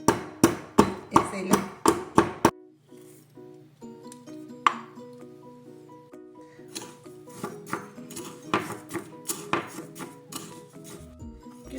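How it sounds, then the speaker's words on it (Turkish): Black peppercorns are crushed lightly in a mortar, opening with a fast run of sharp pestle strikes, then quieter scattered knocks and grinding clinks, with a voice talking over the later part. "Biraz tane karabiber kullanacağız. Şöyle çok hafif havanda"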